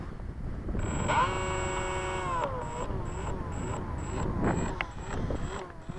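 The electric motor of a Dynam P-47 RC plane with a motor issue whines at half throttle outdoors on a windy field, a steady tone that drops and then pulses on and off, under wind noise with some talk.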